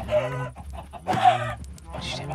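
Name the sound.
chickens clucking in Minecraft video game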